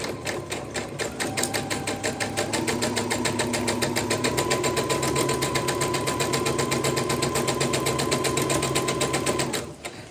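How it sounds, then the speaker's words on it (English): A sewing machine stitches quilt pieces in a fast, even run of needle strokes that hum steadily for about nine seconds before abruptly stopping; close and clear, with no talking. "So just sewing as we have before, starting at the beginning."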